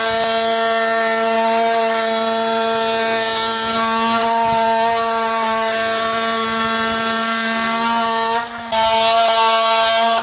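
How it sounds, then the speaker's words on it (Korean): A multi-cutter oscillating power tool cuts into a corner in a building or interior fit-out job, giving a loud, steady, high buzzing drone that runs unbroken for about ten seconds, close up with no voice. "이 멀티커터 같은 경우에는 그라인더나 직소, 원형톱이 들어가지 않는 곳에 유용하게 작업을 할 수 있어요"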